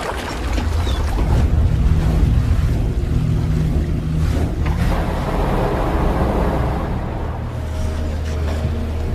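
A boat crossing open water toward a tanker ship, with a steady low engine drone, wash and wind noise throughout and no voices.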